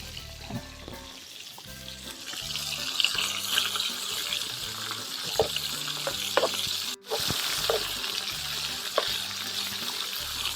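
Steady crackling sizzle of small sea fish (tsatsa) frying crisp in a hot pan, with occasional pops and stirring clatter over quiet background music.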